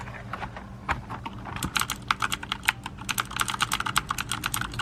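Clicky switches on a Corsair mechanical keyboard snap out a close, crisp run of keystrokes that starts sparse and grows into fast, dense typing.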